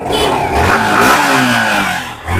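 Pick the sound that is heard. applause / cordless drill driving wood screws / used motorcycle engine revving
used motorcycle engine revving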